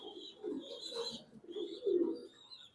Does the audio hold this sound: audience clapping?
no